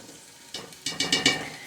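Minced garlic going into a pan of semi-softened onions, giving a close, steady sizzle that rises in several sharp bursts as the garlic hits the hot fat and is stirred.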